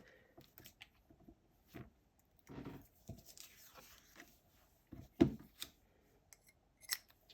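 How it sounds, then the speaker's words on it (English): Paper snips cut and trim paper for a heart-shaped card in a few short, crisp snipping strokes, close and quiet, scattered across the stretch with no talk. "we'll take our paper snips one more time and just trim that off"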